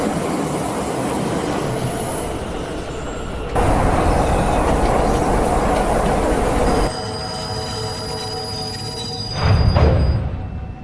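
Train carriage rolling along rails, a loud continuous rumble with shifting wheel noise, high squealing tones from the wheels and a heavier low surge near the end.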